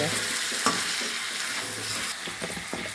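Chicken curry seasoned with Kashmiri chili is stirred and sautéed in a pan, a steady broadband sizzle running throughout with scattered scraping clicks from the spoon, close and fairly loud with no talking.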